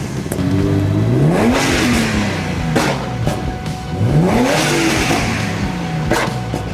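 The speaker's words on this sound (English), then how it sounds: "Now let's take a drive and see how it feels on the road" A turbocharged BMW E36 with an M50B25 engine accelerates hard on the road, its rising engine note sweeping up through two strong pulls with a brief dip between gears, loud and close throughout.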